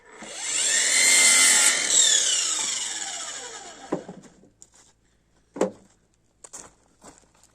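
A cordless power saw cuts through wood during winter firewood processing, a loud rising whine for a few seconds that drops away, followed by several sharp knocks and clunks.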